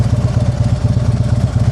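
A motorcycle engine putters close by at low speed during a slow-roll riding drill, a loud, steady, rhythmic low thumping with even pulses throughout.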